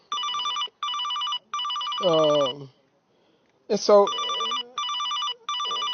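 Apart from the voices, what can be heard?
telephone ringing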